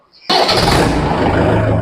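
A TrakStar 545 tractor engine cranks briefly and then catches, settling into a loud, steady close-up diesel chug.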